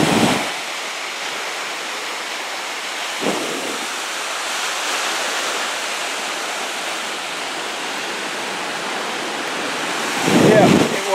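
Strong onshore wind roars across the microphone at a beach in Jamaica, with surf washing in the background and a few heavier gusts buffeting loudly, continuous and close.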